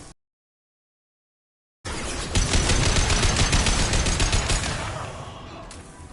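Mass Effect 2 gunfire: after nearly two seconds of silence, a loud, dense burst of rapid automatic shots rattles for about three seconds before tapering off.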